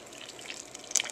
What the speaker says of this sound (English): But now this is the noodles in the boiling water.